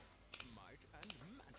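Two quick pairs of sharp mouse clicks in the game Kingdom Rush Frontiers, close and crisp, separated by a short pause, with faint tonal game sounds sweeping underneath.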